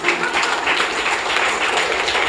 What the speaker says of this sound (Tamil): இவரது முயற்சியை பாராட்டி இன்னொரு தடவையும் கைத்தட்டி கொள்ளலாம்